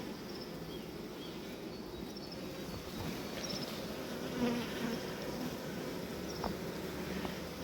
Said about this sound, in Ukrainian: бачимо яка кількість бджоли на рамках